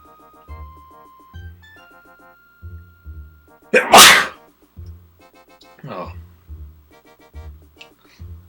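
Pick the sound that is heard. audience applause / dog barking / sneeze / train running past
sneeze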